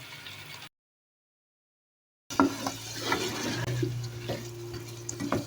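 Tomatoes sizzle and fry in a pot while being stirred for an aloo shorba, a steady close crackle with scraping stirs after a brief silent gap.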